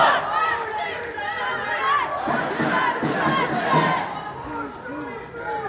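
A crowd at a nighttime anti-austerity protest march in Montreal, a steady murmur of many voices with scattered louder shouts and calls rising and falling close by.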